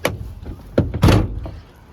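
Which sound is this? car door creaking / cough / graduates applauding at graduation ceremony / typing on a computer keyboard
car door creaking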